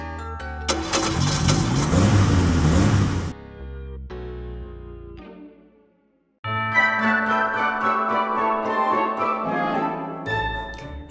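Toy car on a Harry Potter paper circuit card: a loud buzzing engine-start burst, then tonal electronic sounds, a brief silence, and a sustained loud buzzy electronic rev.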